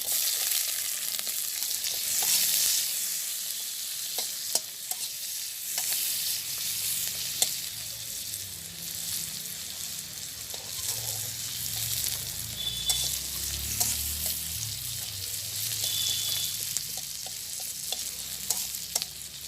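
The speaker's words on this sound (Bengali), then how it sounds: "এখন পেঁয়াজটা দিয়ে দেবো দিয়ে দিচ্ছি তেল পেঁয়াজ রসুন দিয়ে দিচ্ছি" Onion and garlic fry in oil in a village kitchen, a continuous soft sizzle with frequent spatula scrapes and stirring knocks, no voices.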